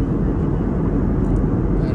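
Steady, loud low-pitched roar of an airliner cabin in flight, a constant engine and air rumble filling the whole moment without a break.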